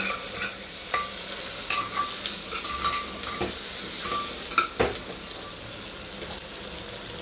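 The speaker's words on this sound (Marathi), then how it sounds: "एक कांदा घेतलेला आहे आणि एक टोमॅटो चिरून घेतलेला आहे हे मस्तपैकी परतून घ्यायचं आहे" Chopped onion and tomato sautéing in a pan for mutton curry, a steady close sizzle with scattered scraping stirs and clinks of a spoon against the pan throughout.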